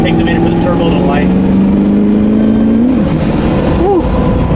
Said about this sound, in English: Takes a minute for the turbo to light.